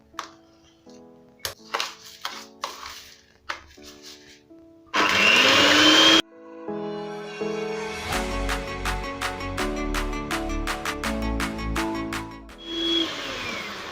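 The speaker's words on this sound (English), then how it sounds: "So I'll start by creaming my butter and the sugar." An electric mixer creams butter and sugar for cookie dough in two short whirring bursts, one loud roughly second-long run mid-clip and a briefer one near the end, set against steady rhythmic background music.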